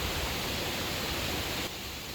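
Strong wind roars as a steady, dense broadband rush that stays loud and unbroken outdoors, easing slightly near the end.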